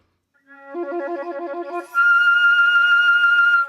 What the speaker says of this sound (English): you're going to hear me tremolo on some low notes while overblowing